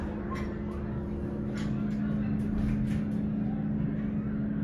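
Schindler MT mod hydraulic elevator motor at a Cheesecake Factory restaurant, giving a steady, loud, droning hum with a constant low tone throughout, with a few faint clicks and noises above it.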